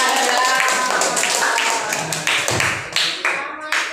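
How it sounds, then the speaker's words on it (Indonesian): A classroom claps for the first student group, giving a handful of sharp, uneven claps and taps that get sparser toward the end, close by, with a few voices mixed in. "tepuk tangan dulu untuk kelompok"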